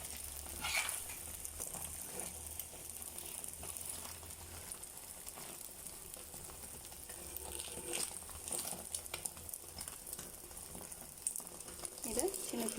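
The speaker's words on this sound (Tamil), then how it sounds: "முட்டை இந்த மாதிரி பாதி வெந்ததும் இந்த மாதிரி திருப்பி போட்டுக்கணும்" An egg fries in a pan and gets flipped once half-cooked, giving a soft, steady sizzle and crackle with scattered spatters and scraping, fairly quiet throughout.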